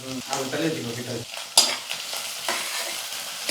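Onion, green chilli and curry leaves sizzle in a pan while a spoon scrapes and stirs them, with irregular clinks over a soft frying hiss.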